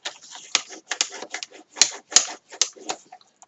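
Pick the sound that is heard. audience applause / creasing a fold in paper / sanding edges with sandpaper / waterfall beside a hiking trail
creasing a fold in paper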